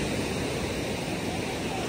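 Rough monsoon sea surf on the Konkan coast, a steady broadband roar of breaking waves and wash that fills the whole stretch evenly, close and loud with no pauses.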